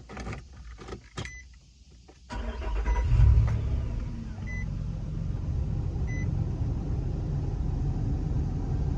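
A Nissan Xterra truck's engine cranks and catches a couple of seconds in, after a quiet start with a few faint clicks, then settles into a steady, close idle rumble with no talking.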